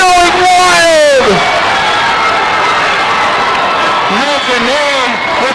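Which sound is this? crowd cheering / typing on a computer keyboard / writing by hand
crowd cheering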